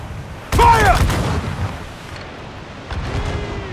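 Naval broadsides in Assassin's Creed IV Black Flag: a sudden loud cannon blast with crackling debris, then a fainter second volley later, mixed with distant shouting voices.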